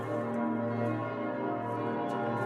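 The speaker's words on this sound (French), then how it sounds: "Les cloches rythmaient la vie des Parisiens." Church bells of Notre-Dame de Paris ring in a dense, continuous peal, their overlapping tones sustained and fairly loud throughout with no pause.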